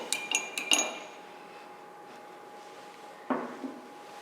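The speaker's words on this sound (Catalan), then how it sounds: "I amb la cullera ho remenarem tot." A metal spoon stirs ingredients in a glass for a lava lamp experiment, giving a few bright clinks early on, then a quiet stretch and another short clink near the end, close and alone.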